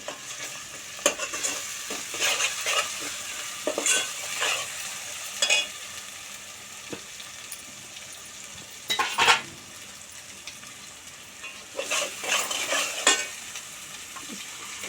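Ginger sizzles in a pan for a ram's head curry, with a spoon repeatedly stirring and scraping against the metal in bursts over a constant low fry; close-up, no talking.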